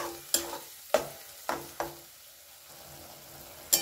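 A spatula scrapes and stirs mashed potol paste in a hot pan to dry out its water, giving several distinct scraping strokes at an uneven pace over a soft sizzle, close by, with no voices.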